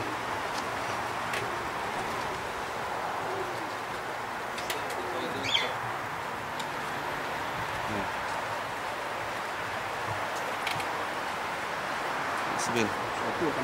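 Racing pigeons arriving back at a loft during a competition flight, with soft cooing and brief wing flutters over steady outdoor background noise while people talk nearby.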